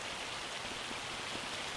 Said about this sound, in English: That is hail.